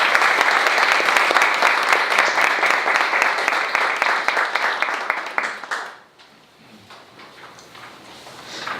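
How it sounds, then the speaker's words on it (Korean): An audience at a public lecture gives a warm round of applause for a professor, dense steady clapping from many hands that fades out after about six seconds into quiet room noise. "우리 한번 감사의 박수를 해주시면 됩니다"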